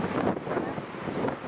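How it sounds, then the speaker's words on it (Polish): Wind gusting into the microphone at the Baltic seaside, a steady close rumbling roar with no other clear sounds. "No wiatr wieje."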